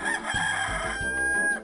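A rooster crows loudly in a synthetic, game-like tone from the video game 102 Dalmatians: Puppies to the Rescue, one drawn-out cock-a-doodle-doo over a steady background hum.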